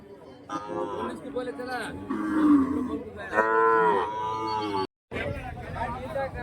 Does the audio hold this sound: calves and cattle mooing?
yes